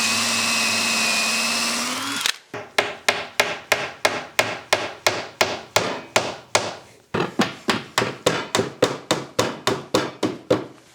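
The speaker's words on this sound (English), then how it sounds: "Drill your free holes and put those dowels in it" A power drill boring dowel holes in wood, a steady motor whine at first, then a long run of quick, evenly spaced sharp knocks and bursts, loud and close.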